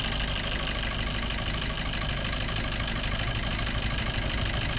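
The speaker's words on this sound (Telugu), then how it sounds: "ఇక్కడ ఇంజన్ బీటింగ్ కూడా చూసుకోవచ్చండి" A 2017 Maruti Breeza ZDi Plus diesel engine idles in a steady, even rumble with a faint knocking clatter, continuous and close, with no voices over it.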